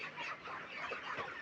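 Chickens cluck softly and continuously in a poultry house during hot weather, a faint, busy chatter of many birds with no one speaking.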